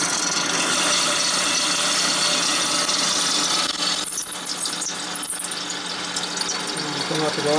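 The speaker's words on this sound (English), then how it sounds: "Put it in gear, hit the button, and drill the hole." Steady mechanical grinding and whirring of a drill boring through a metal Harley-Davidson Panhead cylinder head, continuous and fairly loud throughout, with some clatter near the end.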